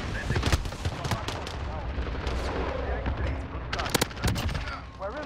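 Rapid M4A1 assault rifle fire from Modern Warfare: several sharp, loud bursts and single cracks over a busy game background, with the heaviest bursts early and again near the four-second mark.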